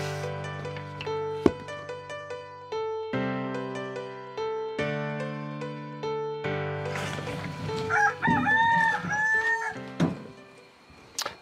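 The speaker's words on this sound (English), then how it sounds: "As you can hear, the new owner of the coop has a cockerel" A cockerel at an allotment chicken coop crows several times, each call long and harmonic. Shorter, choppy clucking and squawks follow near the end, close and clear with no talk.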